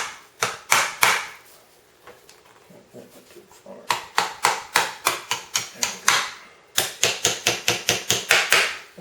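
Parts of an H&R shotgun being tapped with the back of a screwdriver handle, bursts of sharp, close, rhythmic knocks in quick runs separated by brief pauses.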